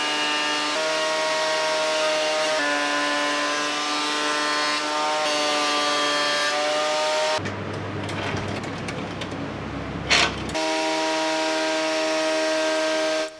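Planer thicknesser feeding a pressure-treated wooden fence post: loud, continuous high whine of the cutter head with a steady tonal hum, then a brief rougher passage with a knock before the whine resumes, close and unbroken.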